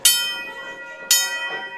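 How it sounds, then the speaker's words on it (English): A wrestling ring bell is struck twice during a match, each a sharp loud metallic clang that rings out and decays, about a second apart, with faint arena noise behind. "Oh, ring the bell."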